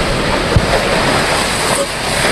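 Strong storm wind roars over an EZ-Dock as waves crash and slosh against it, a constant loud rush of wind noise and surf with a single sharp knock partway through.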